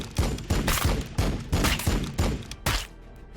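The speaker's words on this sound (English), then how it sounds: "Firing on the enemy." Gunfire in Warhammer 40K: Battlesector, a steady rhythmic series of about eight loud punchy shots spaced roughly a third of a second apart, alone without talk, ending in a short decay.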